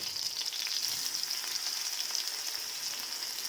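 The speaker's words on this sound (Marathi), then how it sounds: "जे आपण हिरवी मिरची बारीक करून घेतलेली आहे ती टाकायची आहे आणि आलं हे लसूण आणि जिरे बारीक करून घेतलेले ते टाकले" Ground green chilli, ginger, garlic and cumin fry in hot oil with a steady, dense sizzle that holds evenly throughout, close and fairly loud with faint crackles, no voices.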